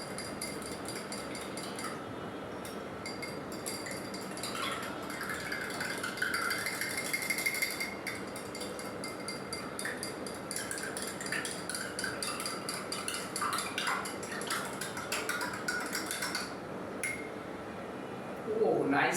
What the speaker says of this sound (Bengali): ভালো করে নাড়িয়ে নিব যেন কনডেন্স মিল্কটা আর মিল্কটা ভালো করে